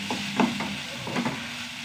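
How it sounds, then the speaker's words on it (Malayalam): Tomatoes sautéing in a hot pan, a steady soft sizzle with a few stirring scrapes and clinks of a utensil against the pan, close up and alone with no voices. "നന്നായി വഴണ്ട് വെക്കാം. തക്കാളിയൊക്കെ ഒന്ന് വഴണ്ട് വന്നു കൂട്ടാ."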